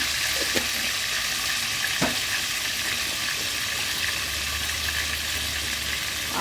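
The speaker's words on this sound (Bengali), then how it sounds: "পনিরগুলো দিয়ে দেব ভেজে নেওয়ার জন্য।" Cubes of paneer sizzle steadily in hot oil in a pan, a dense crackling hiss with a few brief clinks of a utensil against the pan, no talking.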